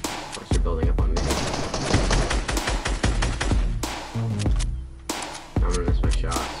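Rapid gunfire bursts in Fortnite, loud and close, with sharp repeated shots and thuds in irregular clusters and short gaps between volleys.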